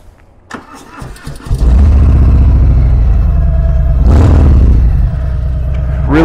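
A starter whirs and clicks, then a 2018 Harley-Davidson Fat Bob's 114 engine catches and settles into a loud, deep, throbbing idle with one sharp rev midway.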